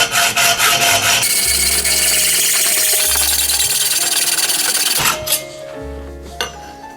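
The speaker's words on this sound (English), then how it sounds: "So with the tube in my saw guide, you can see, so that's gonna cut it just at the top of that." A saw works through a bicycle frame tube clamped in a saw guide, giving steady rasping strokes with a low rhythmic hum under them, close and loud, ending in a few scraping taps.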